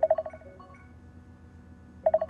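An electronic phone ring in a horror game, two short bursts of warbling tones separated by a quiet pause, fairly loud and close with no voices over it.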